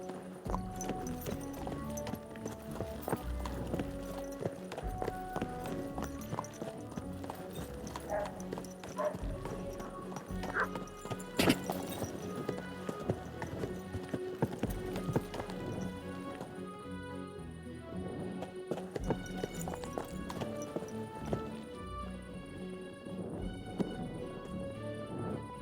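Horse hooves clip-clop steadily through the medieval world of Kingdom Come: Deliverance II on hardcore mode, a close, rhythmic stream of hoofbeats layered over music and ambient game sound.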